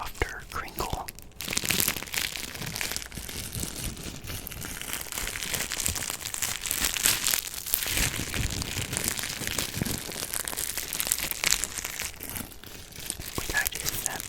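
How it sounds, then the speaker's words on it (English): Soft crinkling of a chocolate wrapper worked close up, a continuous gentle rustle and crackle with small sharper crunches throughout. "This is more like a softer crinkle."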